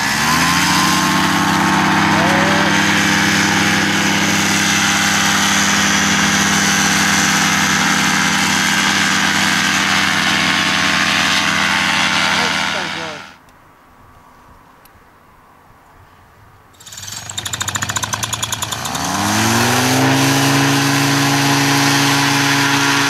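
An engine at a paragliding competition idles loudly for several seconds, cuts out into near silence, then starts up again and keeps running.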